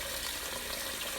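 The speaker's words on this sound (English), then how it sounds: "I'm going to cover that with cold water" Cold water pours steadily into a stockpot holding chicken bones and mirepoix, a continuous broadband rush of filling water with no voices.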